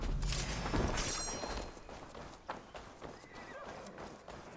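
A horse whinnies loudly in Assassin's Creed Valhalla, its shrill neigh rising and falling over clip-clopping hooves and game ambience, then fading into scattered in-game sounds.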